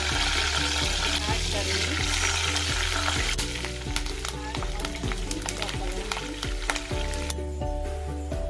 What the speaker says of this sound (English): Add oil to the kadai. Add brinjals and get this slightly fried.